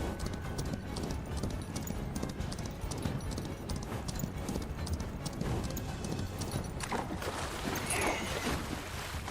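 A horse in the western video game Far Far West moves through water, its hooves clip-clopping and splashing in a quick steady rhythm close by, with a brief whinny and sloshing water.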